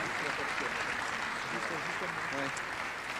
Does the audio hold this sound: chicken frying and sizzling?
no